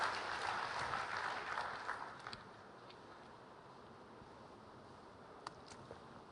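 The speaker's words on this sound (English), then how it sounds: "You can applaud for that one" Audience applause at the Lotusphere 2011 conference, a fairly soft wash of many hands that fades after about two seconds into quiet room noise with a few stray claps.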